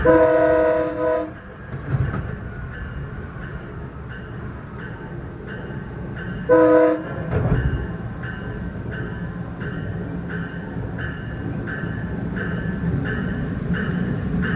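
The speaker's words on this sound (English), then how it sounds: "We're catching up to that South Chicago bound train" A Metra Electric commuter train rumbles steadily with rhythmic clacking of wheels over rail joints, punctuated by two loud horn blasts, heard from up close.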